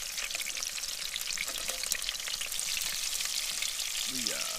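Crumbed cherabin, freshwater prawns from Lake Argyle, fry in a pan outdoors with a dense, close sizzle and crackle, steady throughout, with a few faint clinks near the end.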